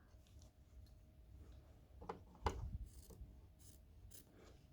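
Scissors snip through T-shirt fabric before overlocking, a few faint close crisp cuts with one louder snip in the middle over quiet room noise.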